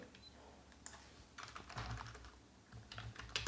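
Fingers type on a computer keyboard close by in short bursts of soft clicks, with a few louder keystrokes near the end and no speech.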